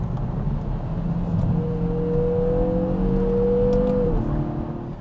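Steady low rumble and road roar from beneath a moving 2020 Kia Forte 5 GT cruising on the highway, with a faint whine rising and holding before dropping off near the end.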